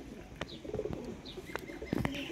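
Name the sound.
rare Ferozpuri breeder pigeon pair cooing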